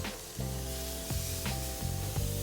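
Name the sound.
meat sizzling on a grill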